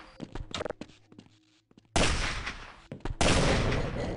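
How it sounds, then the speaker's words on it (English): A sniper rifle firing in the Half-Life mod They Hunger: two loud, sharp gunshots ring out a second or so apart, each followed by a short echoing tail, after lighter clicks and handling noises. "Turning off this switch and going back allows you to get the sniper rifle"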